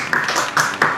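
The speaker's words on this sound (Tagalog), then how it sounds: "Palakpakan naman natin." A small group claps at a business gathering, with three short bursts of applause swelling and fading in quick succession, fairly close.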